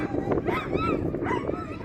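Seven sled dogs yip, whimper and bark excitedly at the start line of an eight-dog race in Tok, Alaska, a steady close chorus with crowd noise and a voice in the background.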